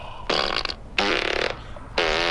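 Three loud, buzzy fart sounds, each about half a second, spaced evenly apart and close up, with no talking.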